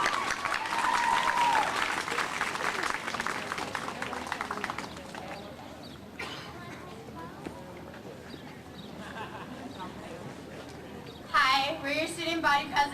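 A graduation crowd applauds in a large venue with a loud, dense clapping that fades over several seconds, and then a voice speaks over a lingering patter.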